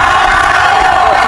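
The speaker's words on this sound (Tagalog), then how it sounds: "the crowd chanting Magsayo." A boxing crowd at the Magsayo vs Magnesi WBC title eliminator chants a fighter's name, a dense, loud and continuous wall of voices filling the arena.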